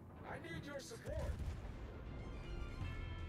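Naval artillery from the battleship Scharnhorst's guns in a naval video game: a deep boom followed by low rolling rumble and distant thuds, while someone talks over it.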